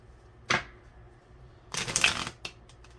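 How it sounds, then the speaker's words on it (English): Tarot cards being shuffled up close: a quick riffle, then a longer burst of rapid card flutter, followed by a couple of light card taps, with no speech. "You're going to block me shuffling my cards."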